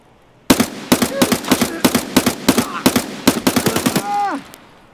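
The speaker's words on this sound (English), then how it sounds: "I was shooting the wrong body." Rapid gunfire in Escape From Tarkov: a burst of about twenty close, loud shots in quick, slightly uneven succession, with a voice briefly speaking near the end.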